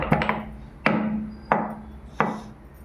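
Cloves being crushed into powder by hand: four sharp, close pounding strikes with short resonant tails, spaced under a second apart, loud and alone.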